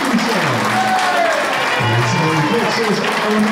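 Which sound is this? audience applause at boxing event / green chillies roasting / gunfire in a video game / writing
audience applause at boxing event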